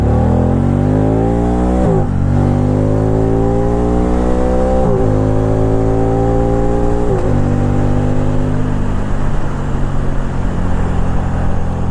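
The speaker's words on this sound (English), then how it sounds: "That Acropovic exhaust really gives it a nice sound to it." A Can-Am Spyder RT-S three-wheeler with an Akrapovic exhaust revs loudly and close up, with rising engine tones broken by several shifts or throttle lifts, and no voices.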